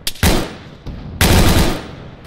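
Gunfire in the video game ARMA 3 comes as two close, loud bursts of rapid automatic fire with a short quiet gap between them. There is no talk over the shots.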